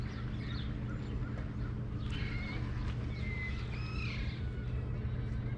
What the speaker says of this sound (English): There's the birds, parrots singing.